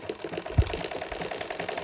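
Sewing machine stitching the waistband onto a skirt, running in a continuous rapid mechanical rattle with a regular stitch rhythm, close and steady, plus a soft thump partway through.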